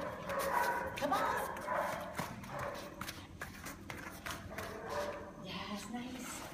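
A male pup barks and whimpers with short yips amid scuffling and movement, while a person talks encouragingly to it throughout.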